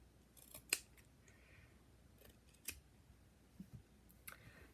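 Scissors snip through recycled shirt fabric, a few sharp, distinct cuts spaced irregularly with quiet handling between them, close and clear in a quiet room with no voices.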